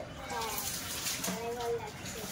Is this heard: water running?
yes